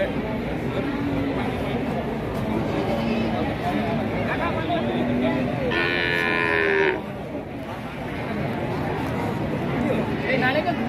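Cattle mooing at a bustling cattle market in Jatirogo, several drawn-out lowing calls rising over a steady crowd babble, with someone talking nearby.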